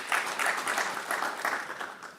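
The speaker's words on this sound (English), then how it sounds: "I think we should give ourselves a round of applause" Applause from an audience at an international cancer conference session, a steady wash of many hands clapping at moderate distance, holding even for about two seconds before thinning slightly at the end.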